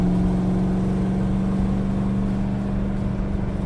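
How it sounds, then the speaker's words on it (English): Steady drone of a 1993 Ford Mustang Cobra cruising at highway speed, about 75 mph, with constant low engine hum and road noise filling the cabin, no voices. "I'm on the highway now. The car really drives well."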